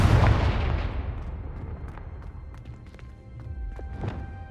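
A Confringo fire spell exploding in the Hogwarts Legacy video game, one booming blast up front that decays into a rumbling tail with scattered crackles and thuds.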